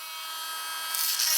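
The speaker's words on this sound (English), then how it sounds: "Use that same Dremel bit to start beating that guy up." Dremel rotary tool bit grinding into a plastic air restrictor, a continuous high-pitched whine that grows harsher and louder near the end as the bit bites into the part.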